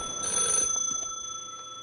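A phone ringing inside The Last Caretaker video game, a quick bright electronic trill that sounds once and then fades into a faint lingering tone with soft background noise.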